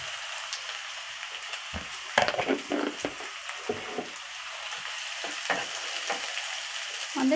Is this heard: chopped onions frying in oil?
yes